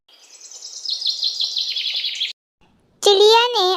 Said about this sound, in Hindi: चिड़िया ने अपनी आवाज निकाली।